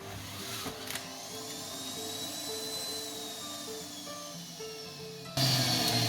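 NutriBullet blender pulverising whole pears, a continuous high-pitched motor whine with steady grinding that jumps louder near the end, close by.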